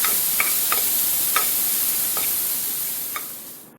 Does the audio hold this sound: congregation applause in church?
no